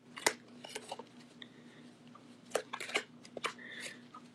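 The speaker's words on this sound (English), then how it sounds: "So we're going to shuffle the cards." A deck of tarot cards being shuffled, with quiet riffling and sharp card snaps arriving in short irregular bursts over a steady low hum, fairly close and soft, with no one talking.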